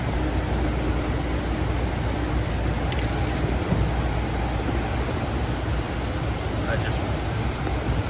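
Coolant drains steadily from a 10th gen Honda Civic 2.0L, a continuous rushing, splashing stream close by, with a few faint clicks.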